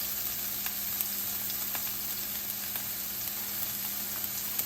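Onion sizzling in a heated non-stick pan, a steady soft hiss of frying with faint scattered pops, quiet and even over a low background hum, no speech.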